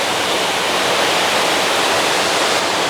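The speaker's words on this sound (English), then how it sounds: "you can rent that house and stay right here on this creek with the sounds of the waterfalls coming out of the dam behind us" Water pours from a 1933 dam into a creek in a Tennessee state park, a loud, constant roar of falling water close by, with no voices.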